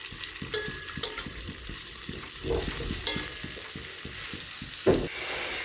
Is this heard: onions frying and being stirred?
yes